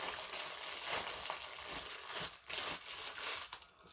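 Scissors snipping and crinkling through packaging around a new wrestling belt, a run of close crackling, tearing cuts in quick irregular bursts.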